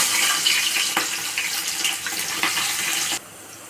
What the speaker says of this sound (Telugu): పెద్ద సైజు ఆనియన్స్ 2 తరుక్కున్న ఆనియన్స్ వేసేసుకుందాం